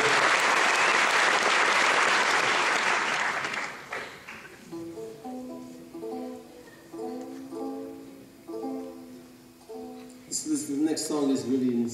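A theatre concert audience gives loud, full applause for the opening act for about four seconds before it fades and a stringed instrument begins picking a melody.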